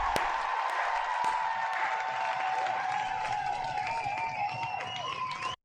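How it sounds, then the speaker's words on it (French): Applause from an audience thanking a donor during a French live commentary stream: dense, steady clapping held for about five seconds, mixed with faint ringing tones, then stopping abruptly. "on l'applaudit"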